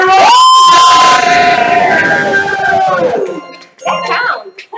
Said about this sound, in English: Let's cheer on everyone!